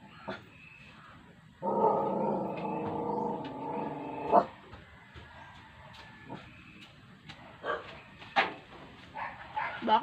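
A dog at a rural Philippine home barks in a few sharp, separate bursts near the end, after a longer droning sound earlier. Someone talks in between.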